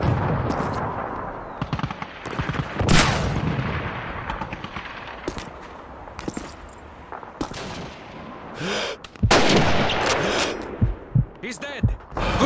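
Rifle and machine-gun fire in Call of Duty 2 cracks out as sharp, irregular shots and short bursts, some near and loud and others more distant, amid battlefield noise.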